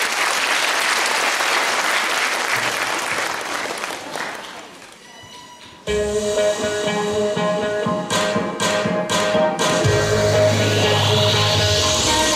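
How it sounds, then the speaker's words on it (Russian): Audience applause at a Mother's Day concert in a district house of culture in Tikhvin, greeting two young sister singers from a pop song studio; sustained loud clapping fills the hall, fades briefly, then swells again over stage music. "Ваши аплодисменты!"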